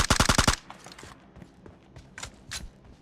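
Automatic gunfire in the PUBG Mobile battle royale game: a rapid burst of about six loud close shots in the first half-second, followed by scattered fainter shots and faint thuds.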